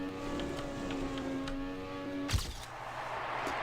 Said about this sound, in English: Even stolen the sound effects of the cars.